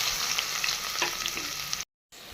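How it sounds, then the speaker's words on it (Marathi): Onion goes into oil heated in a pot and fries with a loud, steady sizzle and crackle, stirred now and then, before a brief cut to silence and the sizzle resumes. "एका पातेलीत आपण एक पळी तेल टाकले आहे आपण आता हा कांदा टाकणार आहे भाजण्यासाठी"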